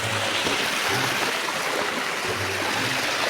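Strong river current rushing over rocks at Malaking Bato in Bataan, a loud continuous broadband roar of flowing water heard close up with no talk.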